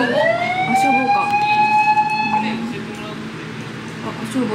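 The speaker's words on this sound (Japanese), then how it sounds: "あ、消防車、ほんまや" A fire engine siren wails past on a hot day on Fukue Island in the Goto Islands, Japan, loud and close with a falling, gliding pitch as the truck goes by, while people talk nearby over street noise.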